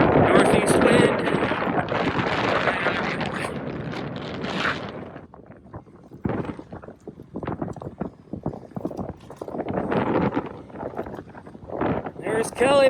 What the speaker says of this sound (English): There's that stiff northeast wind.